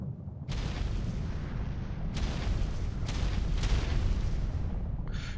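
Volcanic eruption in ARK Ragnarok, rumbling continuously with heavy low-frequency roar and several bursts of crackling debris as rocks fall, sustained and loud throughout.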